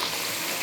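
Fish sizzles as it fries in hot oil, a brief, steady crackling hiss heard close up and alone.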